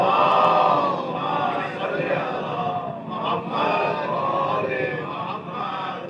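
A large crowd at a Muharram majlis chants salawat in unison, a loud sustained roar of many voices rising and falling together over several seconds.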